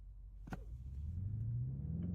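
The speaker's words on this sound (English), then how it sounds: "you hold your foot on the brake while pinning the throttle, build up the revs, and let go of the brake" Revving car engine in a racing video game during a launch-control start, a low rumbling drone rising steadily in pitch as the revs build and hold, with a brief sharp transient early on.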